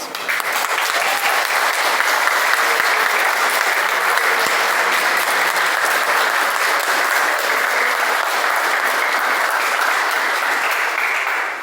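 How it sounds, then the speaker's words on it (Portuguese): Loud, sustained applause from an audience at a book launch presentation, a thick wash of many hands clapping evenly for the full stretch and fading slightly at the very end, with no talking. "eu vou oferecer uma salva de palmas"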